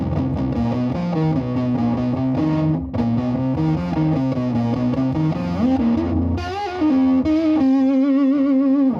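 A sustained synthesizer chord played continuously, thick and warm with a muffled top end, its tone shifting slightly in the last few seconds.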